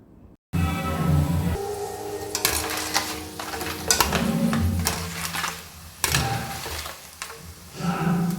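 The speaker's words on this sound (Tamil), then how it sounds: "நல்லா பொரிஞ்சு வந்தோடனே அந்த சவுண்டே கலகலன்னு இருக்கும் பாருங்கள்" Slices of tapioca (cassava) frying in hot oil for chips, a busy, loud crackle and hiss with scraping clatter from a utensil, continuous throughout.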